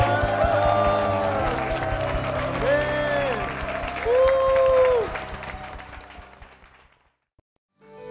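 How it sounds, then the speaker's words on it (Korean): Congregation applauding inside a church during a Korean Christian broadcast, a steady wash of clapping mixed with voices and sustained musical tones, then fading to near silence just before the end. "주님께 영광의 박수를"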